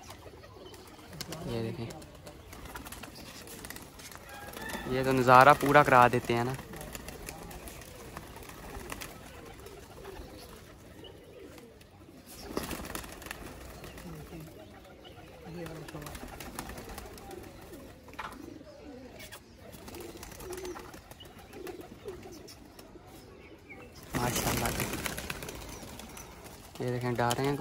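Pigeons being fed grain, with soft cooing and bursts of wing flapping as they come down and move about, heard under someone talking throughout, with louder flurries near the start and end.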